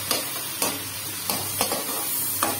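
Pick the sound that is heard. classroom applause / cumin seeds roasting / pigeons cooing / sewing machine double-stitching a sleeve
cumin seeds roasting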